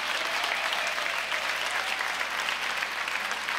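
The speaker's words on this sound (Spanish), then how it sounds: "Un aplauso fuerte a María Corina Machado" A studio audience on a Spanish-language TV show gives loud, sustained applause, with dense clapping filling the whole stretch and no pause.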